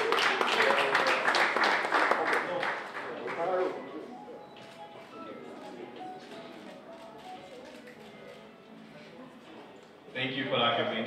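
A round of applause from a live audience at an exhibition event, dense clapping that fades after a few seconds into murmuring, then rises again briefly at the end.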